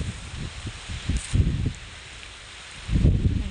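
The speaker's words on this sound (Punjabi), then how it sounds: "ਬੜੀ ਵਧੀਆ ਠੰਡੀ ਠੰਡੀ ਹਵਾ ਚੱਲਣ ਦੀ ਆ" A cool breeze sweeps through village farm fields, rustling leaves and buffeting the microphone in a few gusty bursts. The wind swells and fades over a few seconds, close and fairly loud, with no voices.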